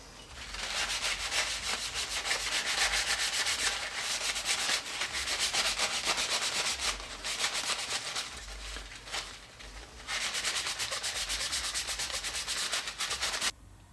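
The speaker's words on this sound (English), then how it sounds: "I think I'm just going to give it a nice coating of Danish oil" A cloth rubs Danish oil over a wooden tealight candle holder, making a steady, close, dry swishing rub in long continuous strokes with only brief breaks.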